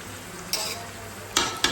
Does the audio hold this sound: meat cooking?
yes